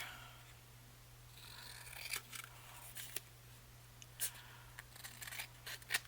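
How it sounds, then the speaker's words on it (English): Scissors trim a small paper tag, making faint crisp snips at irregular intervals over a quiet background with a steady low hum. "And then I'm going to trim this to 1/8 of an inch."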